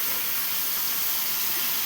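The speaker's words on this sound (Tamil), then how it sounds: "இப்போ நம்ம நல்லா மஷ்ரூமை ஃப்ளிப் பண்ணி விட்டுக்கலாம் கொஞ்சம்." Mushrooms fry with chillies in hot oil, a dense steady hiss close by for a brief stretch, with no voices.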